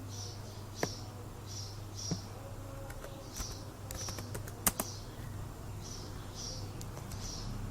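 Code is being typed on a computer keyboard, giving scattered light key taps and a few sharper clacks in uneven bursts over a low background hum.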